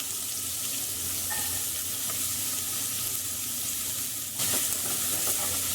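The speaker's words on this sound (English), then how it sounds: "we're just going to cook our onions on a low to medium heat and just lightly brown them" Onions sizzle in oil in two saucepans over low to medium heat as the base for a Lebanese stuffed eggplant dish. The frying hiss is steady and close, with a brief clink partway through and no talking.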